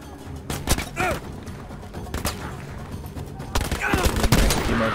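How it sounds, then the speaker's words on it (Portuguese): Battlefield V combat, with loud bursts of gunfire and a heavy explosion crashing close by, layered over an ongoing battle din, with someone talking intermittently. "Que explosão foi essa, gente?"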